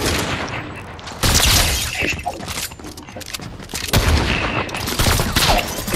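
Sniper rifle fire in a shooter video game amid a dense, continuous barrage of gunfire, with loud bursts standing out around the middle and toward the end.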